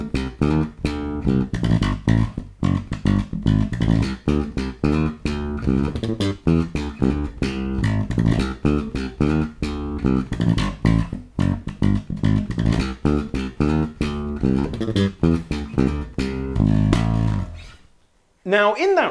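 A bass guitar riff played with three-finger picking runs up to speed, a dense, rapid stream of punchy plucked notes for nearly twenty seconds, ending abruptly with a short trailing sound.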